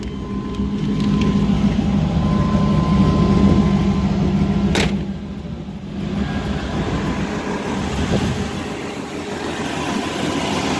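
A V8 car engine, a Chevrolet LS 5.3 swap, idles steadily with a deep, even rumble. There is no talking, and the sound barely changes apart from a brief dip in the middle.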